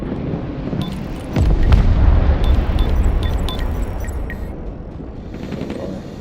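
A bombing strike in the modern-warfare strategy game Broken Arrow: a deep rumbling explosion swells and lingers over a dense roar of battle noise, with faint scattered pops and crackles on top.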